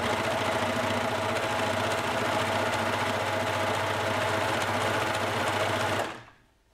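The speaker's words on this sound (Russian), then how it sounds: "на оверлоке, либо на простой швейной машине строчкой зигзаг" A sewing machine, either an overlocker or a standard machine on zigzag stitch, sews a knit hat seam with a loud, continuous rapid whir that runs nearly the whole time before cutting off abruptly near the end.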